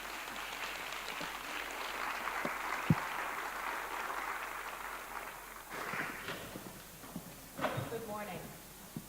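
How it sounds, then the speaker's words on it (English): A conference audience applauds to welcome a keynote speaker to the stage: quiet, distant, continuous clapping that thins out and fades, after which a voice starts speaking. "And you may greet her welcome with an applause."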